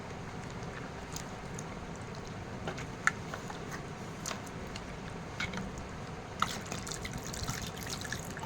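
Water is poured into mango sherbet seasoned with chaat masala and sugar, making a soft continuous trickle with occasional faint drips, close by but quiet.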